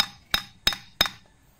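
Three sharp metallic hammer taps seating the cylinder head of a Yamaha Sniper 150 motorcycle engine during a top overhaul, evenly spaced about a third of a second apart, each ringing briefly before fading.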